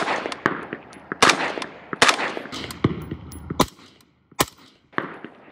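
Rifle fired through a Velos 556K low back pressure suppressor, a string of sharp, muffled shots in irregular rhythm with brief gaps, fairly close, no talking.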